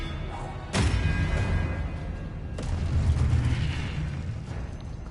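The Expelliarmus spell is cast in Hogwarts Legacy with a sharp crack, then a rumbling magical burst, and a second softer impact follows a couple of seconds later.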